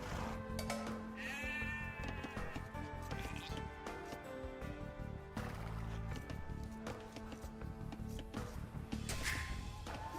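Sheep bleating in the Age of Empires II video game, a short wavering bleat early on over layered game sounds and background music, with other in-game effects continuing throughout.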